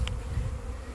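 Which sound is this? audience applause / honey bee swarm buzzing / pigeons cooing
honey bee swarm buzzing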